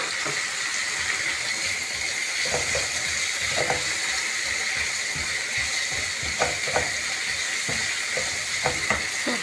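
Rice boiling in a pot and being stirred while cooking, a steady bubbling hiss with scattered scraping clicks of the stirring utensil against the pot, close and continuous, no talking.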